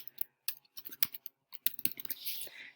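Rapid keystrokes on a computer keyboard as a question is typed, irregular clicking bursts close up, with a brief rustle near the end and no talk.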